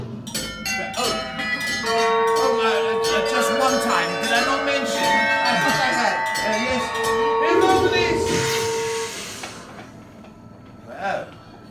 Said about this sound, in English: I'd like you to ring that bell there.